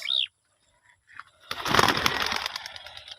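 A brief bird call, a pause, then a burst of wings flapping as three released pigeons take off close by, fading slightly.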